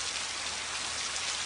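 Steady rain falls outdoors, a dense, even hiss of drops on surfaces that holds constant throughout, with no voices.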